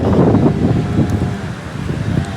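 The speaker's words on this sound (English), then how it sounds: "I think it's gonna rain because it's getting windy." Gusty wind buffets the microphone with a rough, rumbling roar that rises and falls; no voices are heard.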